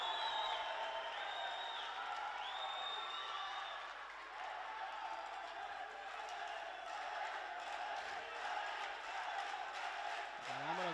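Spectators applauding and cheering a fighter at a karate kumite bout between Rwanda and Central Africa, a sustained hall-wide wash of clapping and crowd noise with a voice talking over it.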